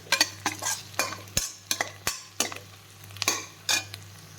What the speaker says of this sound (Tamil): கொஞ்ச நேரம் நல்லா வதங்கட்டும். நல்லா வதக்கி விட்டுருங்க.